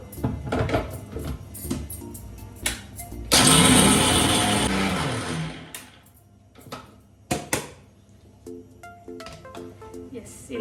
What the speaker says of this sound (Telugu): ఇప్పుడు మూత పెట్టేసి మిక్సీకి వేసేసుకుందాం